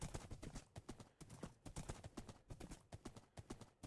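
Horse hooves clip-clop in Minecraft Bedrock, a quick, regular run of crisp hoof taps repeating close up for several seconds, with no voices over them.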